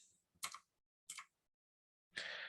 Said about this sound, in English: do you like my new keyboard? It's kind of clicking